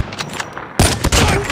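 Gunfire in the Call of Duty video game: a quieter patch of game noise, then a sudden loud burst of rapid close shots with a brief gap before a second sustained volley.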